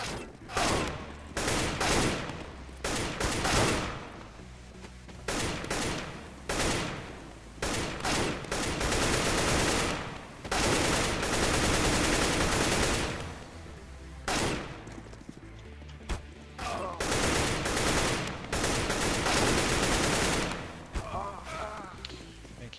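Rapid gunfire from a shooting video game, mixing sprays and single taps in dense, repeated bursts across the clip, with a voice talking over the shots.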